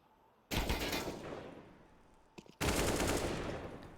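Loud automatic gunfire sprays during a competitive Counter-Strike match, ESEA Main, with two sustained bursts of rapid shots separated by a brief pause and a couple of isolated shots.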